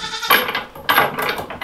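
A goat on a farm with a herd of miniature goats bleats close and loud, two or three wavering cries in quick succession with no talking.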